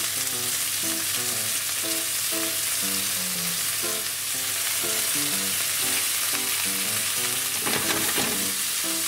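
Pork rolls wrapped around eggplant, eryngii mushroom and shiso sear in a pan, giving a steady, bright sizzle and crackle that continues without talk.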